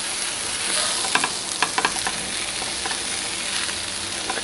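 Vegetable samosa filling of cooked potatoes being stirred and mixed in a hot pan, a steady close sizzle with scraping spoon strokes and a few sharper clacks, no voices.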